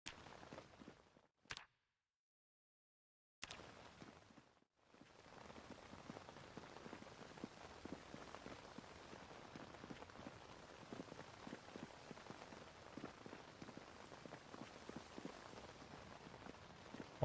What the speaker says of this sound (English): that's the sound of the rain.